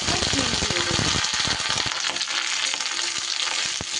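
Nigella seeds and green chillies fry in hot oil for a vegetarian broad bean dish, producing a loud, dense sizzle close up with quick spatula clicks, continuing steadily throughout.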